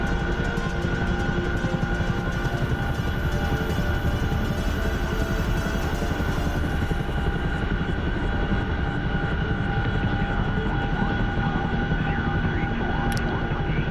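Steady, continuous roar of an A-10A attack jet in flight in a combat flight simulator's Syria scenario, loud and unbroken throughout, with no talk over it.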